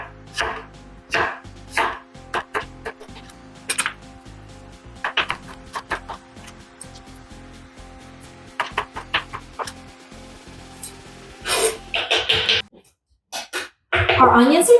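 A knife chops onion and garlic into small pieces on a cutting board for potato and leek soup, quick bursts of close, crisp taps separated by pauses, with a brief louder clatter near the end.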